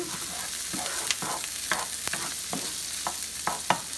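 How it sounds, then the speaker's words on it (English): Butter melts in a pan over medium heat with a steady soft sizzle, broken by repeated scraping strokes of a spatula stirring the pan, close and fairly loud with no talk. "So I've got a couple tablespoons of butter here that we want to melt"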